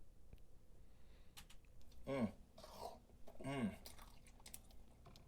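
Wet, squishy chewing and smacking mouth sounds in a couple of close bursts, with faint clicks between and quiet gaps, while a person talks in the background.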